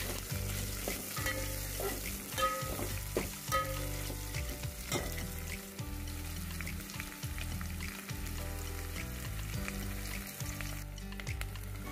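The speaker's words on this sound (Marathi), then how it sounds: "कांदा छानपैकी गोल्डन कलरचा आपल्याला फ्राय करून घ्यायचा आहे" Onion fries to golden in hot oil and ghee, a continuous close sizzle broken by repeated scraping stirs of a spoon against the pan, steady and unvoiced throughout.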